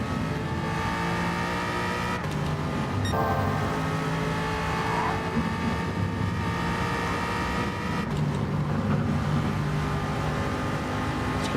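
Steady engine drone of a race car in a racing video game, held at high revs with a sharp shift or throttle change partway through, loud and continuous with faint tire noise and no talking.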